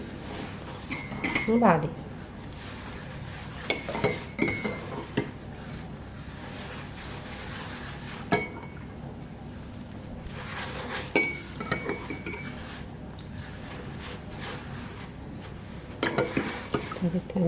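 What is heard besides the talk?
mixing msemen dough with water in a bowl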